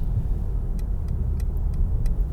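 A 2018 Mercedes S63 AMG S-Class facelift accelerates onto a major road, heard from inside as a steady low engine rumble. A faint, evenly spaced ticking runs over it, with no talking.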